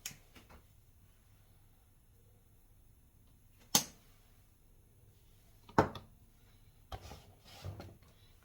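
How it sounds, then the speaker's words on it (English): Whole nutmeg rasped against a grater for bread pudding, a few short scraping strokes separated by quiet pauses, close and fairly soft, with no voices. "I'm going to grate some nutmeg in there as well"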